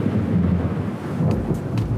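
Thunder rolls through a thunderstorm as a deep, sustained rumble over a steady hiss of rain, loud and close, with no voices.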